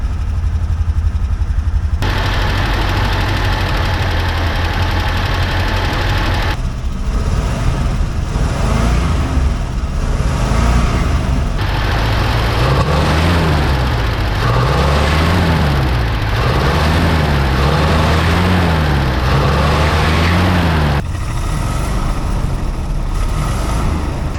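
A rough, uneven engine of an old Chevrolet C-10 pickup, abandoned for 30 years, idles steadily for the whole stretch, with a low continuous rumble that wavers and surges slightly, heard up close and loud.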